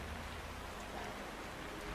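Night rain in the Hitman 3 video game pours steadily, a broad constant wash of falling water with faint low rumble beneath, heard alone without talk.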